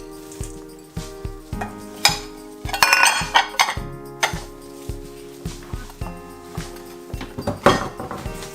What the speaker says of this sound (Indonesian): Teruskan mengaduk.